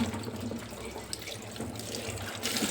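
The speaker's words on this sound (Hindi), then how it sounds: "सब्ज़ी को या तो बाल्टी में डाल के धोती हूँ मैं या टंकी के नीचे रख के धोती हूँ" Vegetables washed by hand under a running tap, a steady splash of flowing water filling the sink with faint trickles and drips, close and continuous, no voices.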